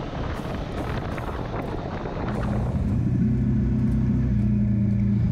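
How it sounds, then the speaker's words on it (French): A 2022 Kawasaki Versys 650 motorcycle pulls out of a corner and accelerates, its engine note rising into a steady droning hum beneath strong wind rush. "on sort de virage, on réaccélère et la moto repart tout de suite"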